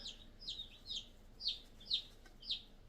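Soft, high peeping calls from young chicks in a brooder holding twelve birds repeat in a loose rhythm, about two per second, fairly quiet against a still background.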